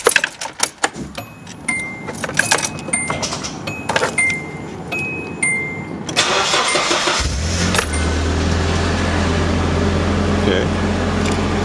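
A stock Nissan 240SX: keys jangle and clatter close by, then the engine cranks and catches, settling into a steady, loud idle that drones on to the end.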